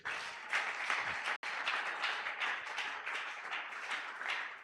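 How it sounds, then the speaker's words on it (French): Congregation at a Sunday praise and thanksgiving church service clapping loudly, a thick continuous burst of applause with a momentary cut partway through, then surging on. "Est-ce qu'on peut acclamer très fort le Seigneur?"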